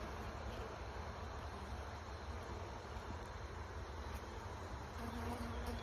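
Dense, continuous buzzing of many honey bees at an open hive being inspected frame by frame, loud and close, with a faint hiss of wind underneath.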